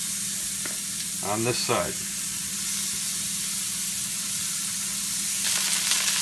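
Seasoned burger patties fry in a pan over medium heat, giving a steady, close hiss, while someone speaks briefly over it.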